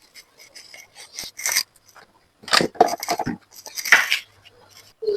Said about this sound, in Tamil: அவிச்செடுத்த பீட்ரூட் இருக்குத்தானே இதை சின்னனாக வெட்டி எடுத்துக்கொள்ளுவோம்